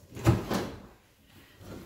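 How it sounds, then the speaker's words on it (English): Kitchen drawer in a house opened and pushed shut, two quick sliding thumps close together followed by a fainter rattle, near and fairly loud. "Kitchen drawers."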